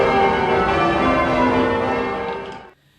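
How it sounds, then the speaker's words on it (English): Large bells of St Paul's Cathedral ring together in a dense, resonant wash of overlapping tones that hums on, then abruptly cuts off near the end. "The cathedral is known for its beautiful bells, calling people to worship God."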